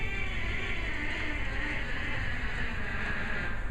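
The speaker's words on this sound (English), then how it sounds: "we had a funny little thing called a canura, and that was something that sounded like tuned bees buzzing" A reedy, buzzing pipe organ stop resembling tuned bees, played on a theatre organ in Ohio; a steady, continuous drone held at an even level throughout.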